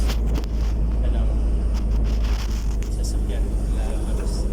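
A car pulls out of a side street beside a busy city road in the Philippines, its engine a low steady rumble close by, wrapped in traffic noise and wind buffeting the microphone.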